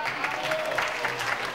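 Steady clapping from a crowd, a dense continuous patter of many hands at moderate level with no pauses.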